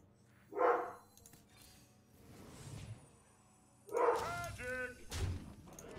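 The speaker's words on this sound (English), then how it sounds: "Dog's going crazy." A dog barks in a few excited bursts close by, mixed with low thumps and bits of background voice from a game playing in the room.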